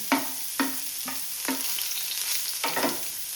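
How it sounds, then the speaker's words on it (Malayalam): Chopped onions going into hot oil for shakshuka, a steady close sizzle with a few distinct stirring scrapes of the spoon against the pan, no voices. "നമ്മൾ ചോപ്പ് ചെയ്ത് വെച്ച് നമ്മുടെ ഉള്ളി ഇട്ട് കൊടുക്കണം"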